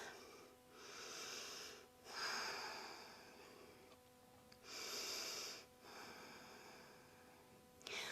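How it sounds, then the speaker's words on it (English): Slow, steady Ujjayi breathing through the nose during a yoga flow, soft airy inhales and exhales alternating in an even rhythm, close and quiet with no talking. "Come back to your steady Ujjayi breath. Steady inhale and exhale through your nose."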